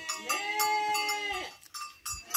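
A sheep in a farm flock feeding at a trough lets out one drawn-out, wavering bleat. Clanks and light knocking sound around it, and it trails into short thuds and rustling nearby.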